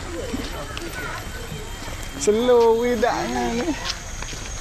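Horse hooves clip-clopping outdoors near a roadside amid steady background noise, with people talking nearby and a brief louder stretch in the middle.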